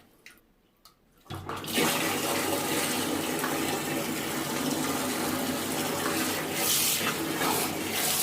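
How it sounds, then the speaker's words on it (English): A Parkside PTPK 400 A1 submersible water pump switches on after a quiet moment and pushes water out in a loud, steady gushing rush that continues unbroken to the end. "and it will start to pumping water out"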